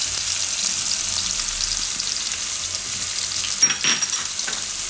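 Garlic, chillies and fresh green turmeric frying in hot oil, a steady bright sizzle throughout with a short stirring scrape near the end and no talk.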